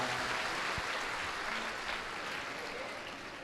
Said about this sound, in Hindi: एक बार जोरदार ताली हमारी बहना के लिए बजाओ।